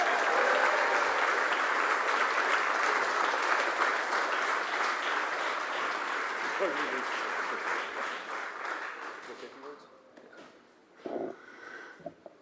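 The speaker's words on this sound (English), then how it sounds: "Give a round of applause for Ted." A crowd at a political rally claps for Ted, dense applause that holds steady and then fades away toward the end, followed by a few scattered sounds.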